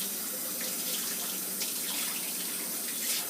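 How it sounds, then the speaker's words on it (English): Cold tap water runs steadily over raw salmon being rinsed in a kitchen sink, a continuous close hiss and splash with small surges and no talking. "And I rinse it in cold water."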